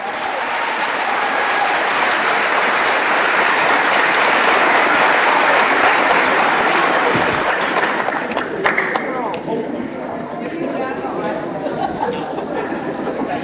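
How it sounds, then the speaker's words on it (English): Audience applause fills a gym at a high school volleyball match between Mitchell Kernels and Pierre, steady dense clapping with crowd chatter that tapers slightly toward the end. "Please join us in showing your appreciation with a big round of applause for Bank West."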